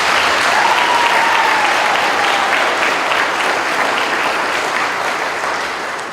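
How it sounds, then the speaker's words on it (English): Dense, steady applause from a congregation rings through the Cathedral of Christ the King during a homily, loud and continuous before easing slightly at the end. "So let us really give him a round of applause."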